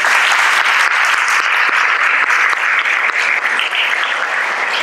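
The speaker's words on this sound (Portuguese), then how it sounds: "eu quero que vocês aplaudam o Dr. Emanuel Neto" An audience at a lecture applauds speaker Dr. Emanuel Neto, with loud, sustained, dense clapping from a large crowd.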